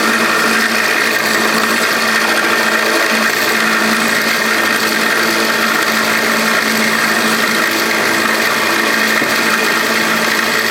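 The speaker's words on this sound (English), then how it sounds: "Let's see how our buddy Mike is doing with his little mill here. Plowing through" A small milling machine cuts metal, a steady, dense mechanical whine running continuously at close range without pause, with no talking over it.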